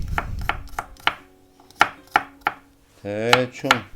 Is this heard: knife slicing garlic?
yes